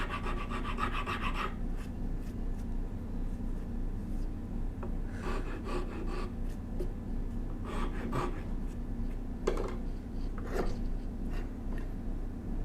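Wooden bow saw handles being shaped by hand, with bursts of rasping and rubbing strokes in an irregular rhythm, close and moderately loud, separated by quieter pauses.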